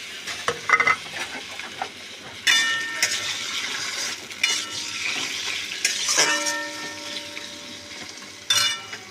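Bombay duck fish go into a pan with turmeric, green chilli paste and ginger paste, a frying sizzle building with repeated stirring scrapes and clatters of utensils against the pan throughout.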